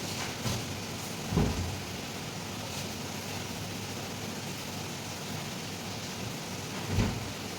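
Steady rain falls outdoors in a continuous hiss, with a few louder thumps like distant thunder or heavy drops at intervals; no one speaks.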